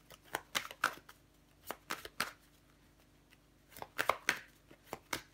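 Tarot cards handled and laid out on a table: a series of soft, crisp card snaps and slaps come in irregular bursts, close and quiet, with short pauses between clusters.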